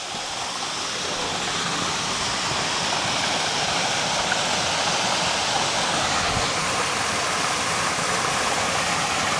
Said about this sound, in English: Wow. That waterfall.